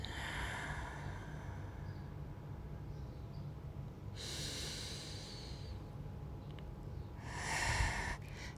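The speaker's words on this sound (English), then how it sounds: "Let's take a few more deep breaths in and long breaths out." Deep breaths in and long breaths out during a prenatal yoga session, two slow airy exhalations standing out over a low, steady background hum, fairly quiet and close with no talking.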